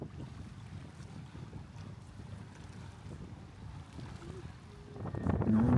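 Low rumbling engine of a steamer boat and wind buffeting on open water on Loch Lomond, with a louder surge of wind noise near the end.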